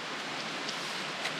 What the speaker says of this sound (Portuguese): Chuva continua.